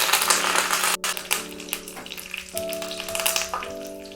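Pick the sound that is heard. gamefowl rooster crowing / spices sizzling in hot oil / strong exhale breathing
spices sizzling in hot oil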